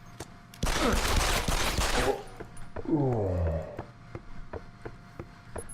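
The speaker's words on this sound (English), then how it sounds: "Someone shooting." A loud burst of rapid gunfire in the video game Deus Ex: Human Revolution lasts about a second and a half, followed by a groaning voice and scattered quieter impacts.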